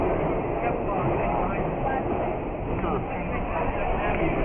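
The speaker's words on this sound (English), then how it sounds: "We are now on the Nostalgia Train, and it's going to get ready to move from the station" A vintage New York subway Nostalgia Train sits at a station. A dense, steady rumble and clatter from the train and station fill the whole stretch, and voices seem mixed into the noise.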